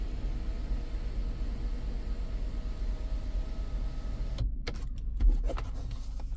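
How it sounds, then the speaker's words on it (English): Steady motor whir of an electric sunroof blind closing inside a 2022 BMW X1 sDrive 20i xLine with a 2.0 engine, running continuously for several seconds before stopping abruptly with a faint clunk as the blind shuts fully, no talking. "you can shut the blinds. The blind will shut all the way."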